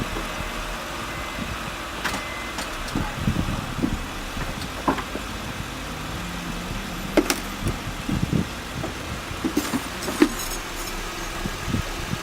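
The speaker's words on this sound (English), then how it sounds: "So what I'm doing is I'm gonna back the car from the ramp, so that way the car is actually level," A 2008 Honda Pilot rolls backward down off a ramp in a garage, its engine idling low and steady under scattered clunks and a few sharp clicks and knocks, with no talking.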